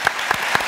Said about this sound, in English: So I'd like to have a round of applause.